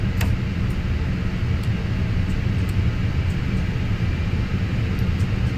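Jet engines of an Airbus A320 in the Fenix flight simulator roar loudly and without pause, a dense steady rumble broken only by a few faint clicks.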